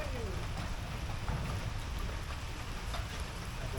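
Steady rain falling in a waterlogged Konkan setting during a stormy downpour that is now easing off, a continuous wash of patter with soft broadband hiss throughout, without any talk.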